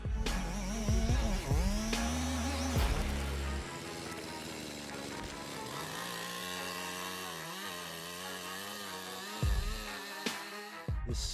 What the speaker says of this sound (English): This steel chainsaw isn't just big, it's a monster.